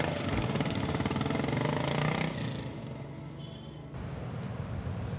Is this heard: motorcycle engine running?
yes